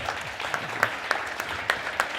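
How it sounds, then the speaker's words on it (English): Applause from a small audience at the end of a panel discussion, a steady patter of clapping with a few sharper claps standing out, no talking over it. "This is where we leave to your thundering applause."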